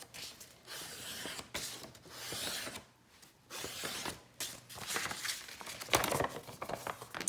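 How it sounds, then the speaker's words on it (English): Sheets of paper being folded and creased several times over while making a zine: close, dry crinkling and rubbing in repeated bursts separated by short pauses, with no talking. "all of my folds, I folded at least twice, if not 3 times"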